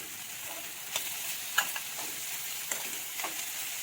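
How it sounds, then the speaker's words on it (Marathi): Peanuts are tossed into a hot frying pan while making poha from leftover chapati, giving a low hiss with a few light clicks and scrapes as they are stirred. "आता मी शेंगदाणे पण टाकून घेते।"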